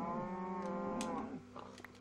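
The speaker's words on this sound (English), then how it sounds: "There's a bunch of cows in here. I didn't remember there was that many cows." Several cattle moo in long, drawn-out calls inside a crowded cow farm in Minecraft. The lowing overlaps steadily for most of the stretch, then fades into lighter scattered sounds near the end. No one talks.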